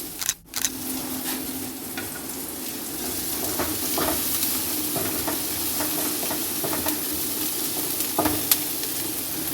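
Steady sizzling of onion and garlic frying in a pan, with occasional soft stirring scrapes, continuous and close.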